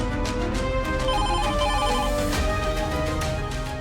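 A telephone ringtone plays steadily and loudly for the whole stretch, a repeating melodic ring in a Marathi TV drama household scene, with no talk over it.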